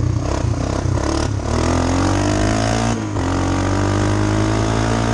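An ancient Honda Big Red ATV runs through flood water after a hurricane, its engine loud and close, revving with a rising, falling whine over rough clatter and splashy scraping. A short dip in power occurs before it pulls steadily again.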